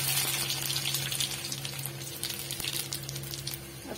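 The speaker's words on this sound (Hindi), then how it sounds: "इसमें लहसुन और अदरक डाल देंगे।" Garlic and ginger hit hot oil with dried chilli and mustard seeds, giving a steady, close sizzle with small crackles and pops throughout.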